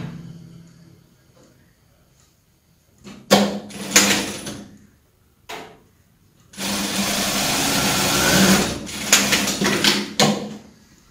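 A sewing machine stitches the seam of a women's jacket with a one-centimetre seam allowance, running in several short bursts and then one longer steady run, loud and close with pauses between.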